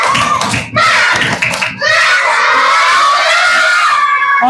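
Schoolchildren in a classroom repeat the tepuk semangat clap chant, with loud, close patterned clapping in short bursts followed by a long stretch of excited shouting and screaming voices.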